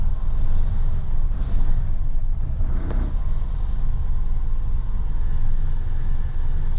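A 1970 Lancia Flavia Berlina, just given an engine re-fit after a leaking rear oil seal, idles with a steady, close, low rumble throughout, with no change in pitch.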